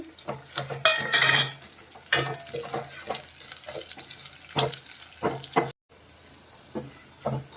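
Onions, green chilies and curry leaves fry in a pan, a continuous sizzle broken by repeated clattering scrapes of a stirring utensil, with a brief cut to silence near the end.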